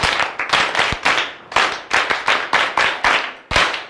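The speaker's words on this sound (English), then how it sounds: "let's clap for Jesus for that" A group of nursery and primary schoolchildren clap their hands together in a classroom, making several bursts of rhythmic, loud clapping that come in quick waves, each rising sharply and fading, with no talk over it.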